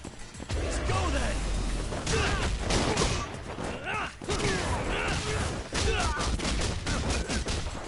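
Rapid gunfire bursts from the video game Judgement, loud and near, with repeated volleys of shots and crashes filling the whole stretch while voices talk underneath.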